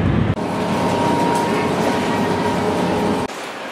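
A high-speed train from London to Paris runs at about 180 miles an hour, heard from inside as a steady roaring rumble with a faint hum that cuts in and out abruptly.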